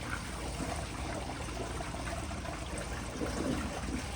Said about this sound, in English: Is it gonna do a double flush?